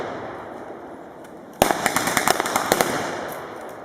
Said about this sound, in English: the other weapons in use today, the K98 Mauser rifle